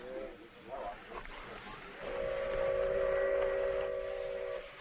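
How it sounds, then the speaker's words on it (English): A fast freight train comes in, a steady loud whistle tone sounding from about two seconds on and holding to the end over a rumbling background. "Sounds to me like the fast freight coming in, filled with all kinds of perishable stuff for market."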